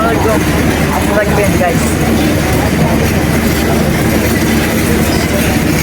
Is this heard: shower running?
no